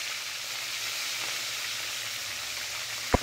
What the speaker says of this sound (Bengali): এখানে ঝোলটা ফুটছে আর এখানে মাছটা ভাজা হবে